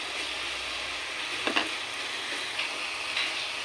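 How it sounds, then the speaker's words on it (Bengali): Garlic paste and spices fry in a pan for a mutton dish, a steady close sizzle with a few light clicks of a spoon, no talk. "এর মধ্যে আমি রসুন বাটাটা দিয়ে দেবো, দিয়ে পুরো মশলাটাও খুব ভালো করে ভাজবো।"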